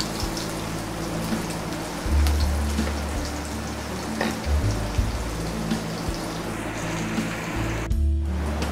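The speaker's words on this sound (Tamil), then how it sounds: "இதை போட்டு நல்லா பொன்னிறமாக வறுத்துக்கோங்க" Chopped onion and a green chilli frying in a pan for vegetable kurma, giving a steady crackling sizzle with scattered pops, plus an occasional low scrape or thump from the pan.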